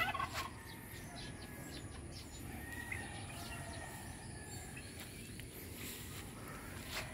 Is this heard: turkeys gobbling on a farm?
yes